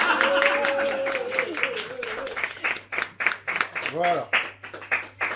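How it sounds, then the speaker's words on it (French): Audience clapping at a weekend gathering with Tesla owners in Reims, starting as dense applause and breaking into scattered, separate claps, with a voice speaking over the start and a low steady hum underneath. "je voudrais qu'on les applaudisse"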